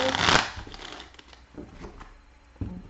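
Tarot cards are shuffled close up: a brief papery riffle, then soft scattered taps and rustles, quiet with no talking.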